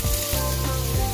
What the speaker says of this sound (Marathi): मिरची आणि लसूण लगेच सॉटे होईल.